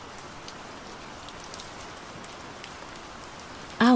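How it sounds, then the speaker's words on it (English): Soft, steady rainfall patters gently and evenly for nearly four seconds, with no voices present, before a short, sharp louder sound cuts in right at the end. "Rain fell softly."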